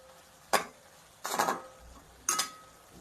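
Cooked dill greens with crushed peanuts stirred in a metal pan: three separate bursts of spoon scraping and clinking against the pan, close and fairly loud, with quiet gaps between.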